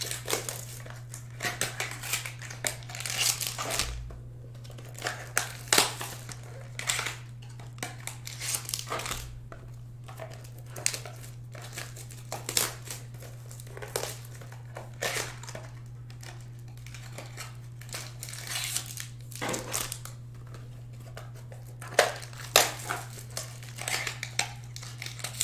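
Trading card packs being torn open, with steady crinkling and crackling of foil wrappers and sharp tearing bursts over a constant low hum, continuing close and busy throughout.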